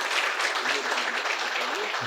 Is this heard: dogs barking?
no